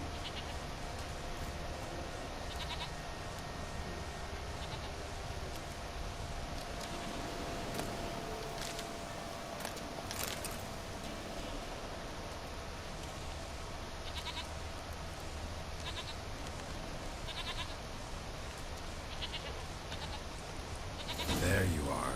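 A goat in The Witcher 3 bleats intermittently at a distance against a steady outdoor ambience, mostly faint amid the game's background sound.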